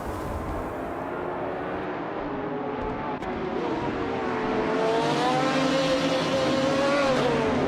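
Engines of the racing pack, including a 2007 Ferrari F430 GTC, roar together at the start of a video game race at Anadara Circuit International, with a dense, rising rev that swells louder toward the end.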